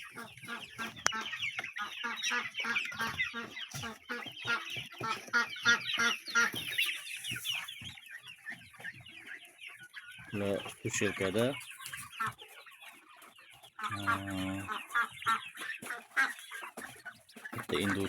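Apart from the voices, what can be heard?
chicks in a poultry farm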